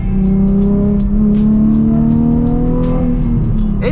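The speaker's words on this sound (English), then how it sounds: "it's a good sounding exhaust" A Nissan 350Z engine revs up loudly and steadily, its exhaust note climbing in a continuous rising drone, heard close.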